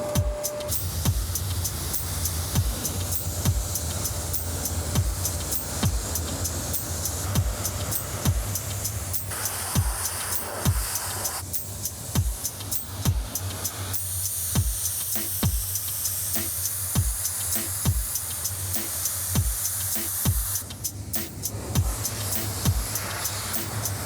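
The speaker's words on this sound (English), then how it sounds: "So I'm gonna give it one good hot water wash." A pressure washer sprays hot water across the rear end of a 1969 GTX, a steady loud hiss with rhythmic knocking pulses underneath.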